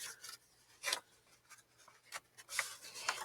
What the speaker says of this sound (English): this time I'm going to fold it this way